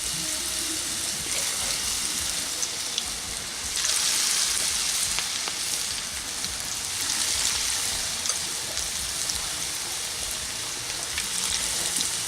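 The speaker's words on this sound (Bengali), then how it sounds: "এবার আমি এটাকে মিডিয়াম ফ্লেমে রেখে ভেজে নিচ্ছি" Cabbage pakoras deep-fry in oil over a medium flame, giving a steady, close, even sizzle and crackle that continues throughout with no talking.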